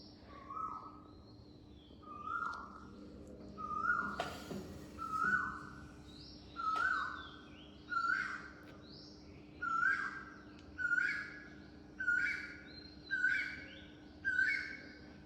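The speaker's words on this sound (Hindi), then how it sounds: "आज फिर से मेरे घर के बाहर बहुत ही कोयल की मयूर आवाज़ आ रही है" An Asian koel calls outside a house, repeating its rising whistled call about every second, a dozen times in a steady rhythm, moderately far and fairly faint, with no talking.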